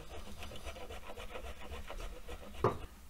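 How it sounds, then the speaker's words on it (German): A block of Parmesan cheese is rubbed against a hand grater in rapid, rhythmic rasping strokes, faint and close, ending with one louder knock. "Dafür habe ich jetzt hier eine Reibe und jetzt tun wir uns das erstmal schön runterreiben"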